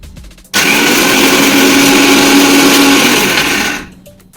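A kitchen mixer grinder whirs at full speed grinding chutney, switching on abruptly, holding a loud steady motor drone with a high whine for about three seconds, then winding down.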